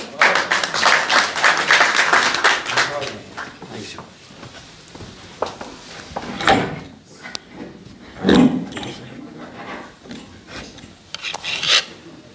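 An audience at an Urdu poetry mushaira breaks into applause, a loud burst of clapping that fades into scattered claps and brief noises.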